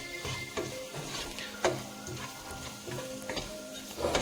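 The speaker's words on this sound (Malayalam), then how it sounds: "ആ പൊടികളിലെ പച്ചമണം മാറുന്നവരെ നമുക്ക് നന്നായിട്ടൊന്ന് ഇളക്കി കൊടുക്കാം." A spoon scrapes and stirs spice powders in a pan for chicken roast, with soft sizzling and irregular clicks, quiet and close, with no talking.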